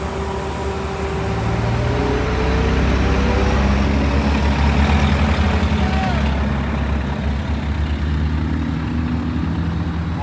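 Bus engines idling at a heritage bus festival in Howell Township, New Jersey, a loud, steady low diesel rumble that stays close throughout and swells slightly midway, with faint crowd sounds behind it.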